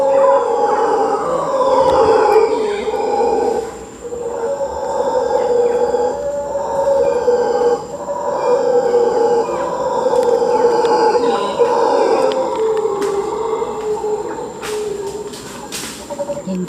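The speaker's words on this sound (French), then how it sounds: "Et en face, il y a des singes hurleurs, comme vous pouvez l'entendre." Howler monkeys in a Costa Rican forest reserve, a long continuous roaring chorus rising and falling for the whole stretch, carrying steadily across the canopy at moderate distance with no talk over it.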